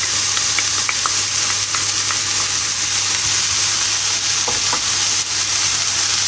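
Minced shallot, garlic and parsley sautéing in olive oil for creamy mushroom tagliatelle, a loud, continuous close-up sizzle with light stirring ticks.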